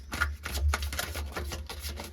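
Tarot cards being shuffled, giving a soft, quiet riffling and flicking of cards up close that lasts about two seconds.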